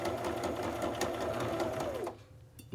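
Sewing machine stitching fabric for a fabric-covered file folder journal, a steady close whirring run of rapid needle strokes that winds down and stops near the end, with no talking.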